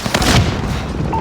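Gunfire in Call of Duty: Modern Warfare, one loud close shot with a heavy boom that rings out and fades over about a second, with no talking.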